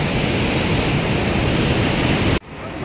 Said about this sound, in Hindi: जैसे ऊपर पहाड़ से आ रहा पानी का शोर है